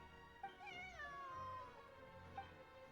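A cat meows in a video game, two or three rising and falling calls over a steady music bed, with a short chirp near the end.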